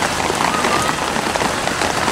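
Steady rain falls continuously on outdoor surfaces, a dense close hiss with scattered drop patter throughout and no speech.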